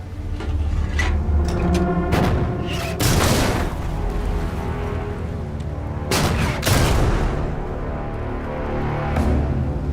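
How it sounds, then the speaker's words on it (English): Guns on a merchant freighter fire back at sea against an attacking submarine in wartime, with heavy bursts of gunfire and booming blasts around 3 and 6–7 seconds over a constant loud rumbling background. "Crew aboard the Elizabeth fight back and open up their guns"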